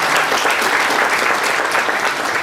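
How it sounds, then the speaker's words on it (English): Seminar attendees at a GST session give the speaker a big round of applause, a loud, dense and steady burst of clapping that fills the room for a few seconds. "can we have a big round of applause to Rajesh Kumar"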